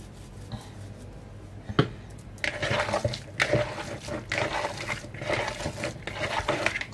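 Minced meat with onion, egg and dill squished and kneaded by hand in a bowl, giving soft wet squelching and slapping sounds that grow busier after a sharp knock.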